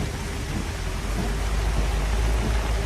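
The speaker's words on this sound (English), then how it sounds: "The rain." Steady rain hisses down as an even wash of noise, with a faint low rumble underneath.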